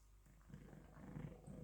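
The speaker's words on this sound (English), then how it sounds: "That's a lovely purr." A cat purrs softly and steadily up close in a quiet room, with a low, rumbling rhythm and no voices over it.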